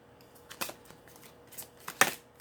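Soft, quick riffles of tarot cards being shuffled nearby, a few short papery bursts in a quiet room.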